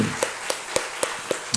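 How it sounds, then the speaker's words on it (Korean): Slow, evenly spaced hand claps sound in a church, about six sharp claps in a regular rhythm against a quiet background with no talking. "우리 자녀들 위해서 축복하는 마음으로 박수 한번 쳤으면 좋겠습니다"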